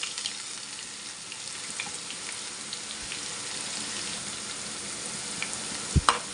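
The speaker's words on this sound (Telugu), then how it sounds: "ఎర్రగా వచ్చేంత వరకు వేయించుకుందామండి ఉల్లిపాయ ముక్కలు" Two small finely chopped onions fry with whole spices in hot oil for a home-style chicken fry, a continuous close sizzle with faint stirring, ending in a couple of sharp knocks.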